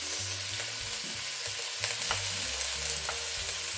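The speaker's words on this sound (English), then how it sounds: "I'll saute the scallops a bit before I add the prawns" Scallops and prawns sauté in a hot pan with a continuous loud sizzle and a low rumbling background, with small scraping stir sounds scattered throughout and no talk.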